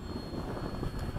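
Steady, loud jet roar from an F-15 fighter jet landing at Bayside, a continuous broadband rush with a faint high whine throughout.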